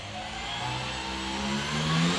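Electric motor of an FMS Piper J-3 Cub 1.4 m RC plane running steadily, a smooth mid-pitched whine and hum that swells slightly as throttle rises, continuous with no talk.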